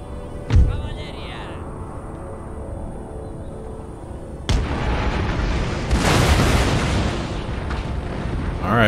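Cannons fire in Empire: Total War, a sharp boom near the start and a heavier blast midway that trails into rumbling explosions and sustained battle noise.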